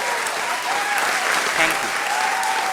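Applause for a guest at a children's storytelling award scene, dense steady clapping throughout, with a faint tonal whistle mixed in.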